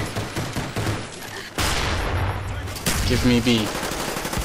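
Rapid bursts of MAC-11 submachine gun fire in Call of Duty: Black Ops multiplayer, loud and close, coming in several stuttering volleys with a brief spoken call between them.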